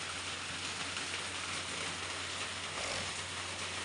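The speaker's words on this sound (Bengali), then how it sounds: "এক্ষুনি আবার বৃষ্টি চলে এলো" A sudden monsoon-season rain shower falls right after sunshine, a soft, even patter and hiss that continues unbroken and fairly quiet, with no one speaking.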